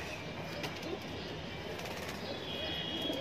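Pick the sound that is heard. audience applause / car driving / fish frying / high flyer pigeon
high flyer pigeon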